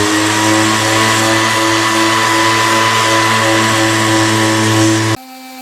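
Steady whine of a power sander working 180 grit over a 1983 Yamaha IT 175 dirt bike fuel tank, close and constant, cutting off abruptly near the end.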